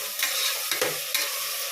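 Onions and tomatoes for chicken biryani sautéing in a pot, giving a loud, continuous close sizzle broken by a few quick spatula scrapes.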